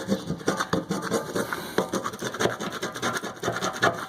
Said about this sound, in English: sometimes you gotta scrape off